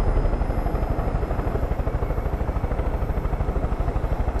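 A helicopter in the video game Far Cry 5 drones steadily with fast, rhythmic rotor thumps and a whining engine, loud and close, continuous for several seconds with no talking.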